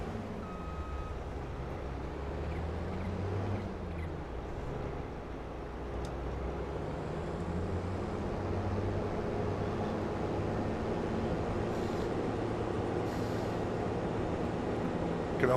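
A combine harvester in a farming video game, a newer model with more capacity and a wider header, drives slowly along a road, its engine a steady low drone that runs unbroken and fairly loud.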